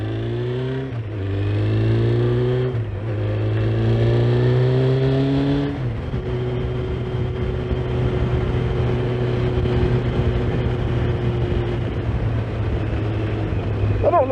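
Honda Fireblade CBR900RR motorcycle engine while riding, a loud steady drone with gear-change dips in pitch, then a sustained cruise with wind rush.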